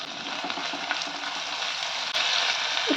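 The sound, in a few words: chopped tomato and garlic paste frying in a pan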